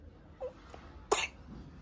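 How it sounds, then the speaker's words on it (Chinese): A child's single short cough, close and fairly quiet, preceded by a faint small vocal sound in an otherwise calm indoor room. "咳嗽是不是严重了"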